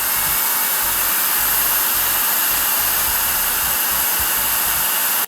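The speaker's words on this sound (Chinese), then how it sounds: "我们来测试一下开启集成模式的时候它的噪音是多大。" A Youwang Dajú household vacuum cleaner roars in integrated docking mode, a loud, steady high-pitched rush of suction air that holds without a break before cutting off abruptly at the end.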